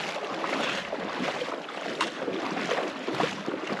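Water splashing as a backpacker wades across Aravaipa Creek in Arizona's Aravaipa Canyon, a steady close rushing and sloshing with wind buffeting the microphone throughout and no voices.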